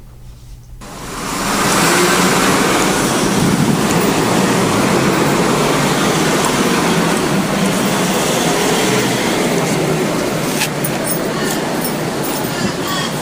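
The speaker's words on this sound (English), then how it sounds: "you can also hear water splashing out from underneath tyres" A steady, loud wash of spray hisses as tyres roll over a wet road, continuous and close throughout, with a faint voice at the very start.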